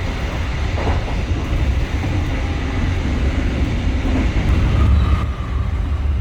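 The Kutojaya Selatan train rolling in at Kutoarjo station, heard from on board as a steady, loud low rumble of the carriage with faint rattling and a slight swell near the end.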